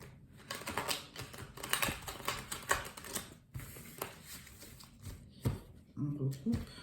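A deck of tarot cards being cut and shuffled by hand, with quick papery riffles and taps close up, broken by a short pause and a few soft knocks near the end.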